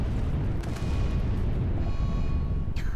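Thrown grenades go off in the video game RimWorld, a heavy, continuous rumble of explosions with deep booming low end and a sharp burst near the end, loud and close.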